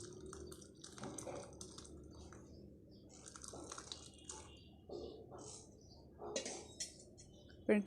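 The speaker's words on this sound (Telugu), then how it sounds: "ఇప్పుడు మిల్క్ స్ట్రెయిన్ చేసుకుందాం." Boiled milk poured and strained through a cotton cloth while making homemade paneer, quiet intermittent splashing, dripping and squishing liquid sounds close by with no talk.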